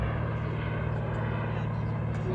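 J-10 model jet aircraft on a first flight, passing low with a steady droning engine whine, fairly faint and distant-sounding, continuous over the short stretch.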